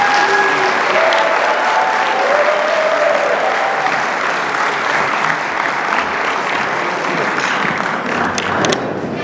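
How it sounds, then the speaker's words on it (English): Loud, dense applause from a large audience at the DuSable Heritage Association's 25th anniversary gala, sustained steadily for about nine seconds with faint whistle-like tones near the start. "let's give another thunderous round of applause for Regine Gobert"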